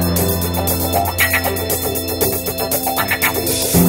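1971 funk music from a film, a busy full-band groove with steady rhythmic hi-hat pulses and driving bass, played loud and continuous without talk.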